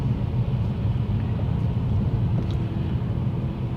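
A Mercedes C43 AMG slows on a roundabout, its engine and road noise a steady low rumble heard from inside the car, with no distinct rise or fall.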